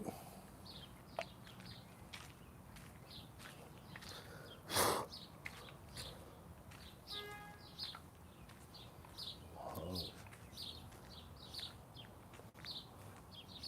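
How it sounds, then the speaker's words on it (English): Birds sing and chirp outdoors along a walk, with repeated short tweets scattered across the whole stretch. One louder burst of noise breaks in partway through, and faint rustling and steps sit underneath. "We're just out for a walk, listening to the birds, soaking it in."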